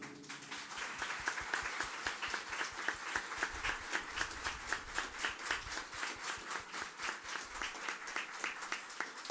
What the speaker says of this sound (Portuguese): As nossas palmas, o nosso carinho para a minha parceira de sempre, Márcia Lúcia.